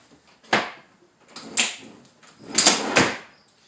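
A locking drawer on a home-built arcade cabinet for Super Nintendo and NES is opened, with a few close wooden clunks and sliding knocks spaced across a few seconds, no talk.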